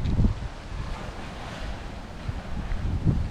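Ocean waves and wind at the shore in downtown Rocky Point, with broad rushing surf, gusty microphone wind noise and a few low thumps, steady and fairly loud.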